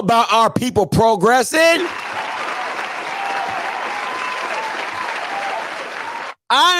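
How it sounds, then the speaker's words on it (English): An audience breaks into loud, sustained applause for staff promotions in the SWAC office, a full crowd of clapping that follows a few words of speech and cuts off abruptly near the end. "Please give a round of applause for them Bammers"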